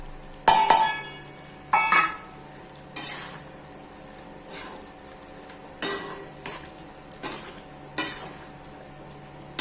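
Spices go into hot oil for a mango pickle, with repeated sharp clinks and scrapes of a spoon against the pot at uneven intervals over a faint sizzle, with no talk.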